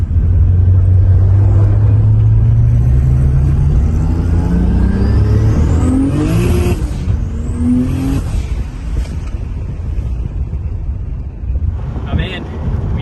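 A 600HP single-turbo Nissan S14 240SX with a 6-speed heard from inside, the engine droning and climbing in pitch through revs amid heavy wind rush, loud and continuous with rising whines midway.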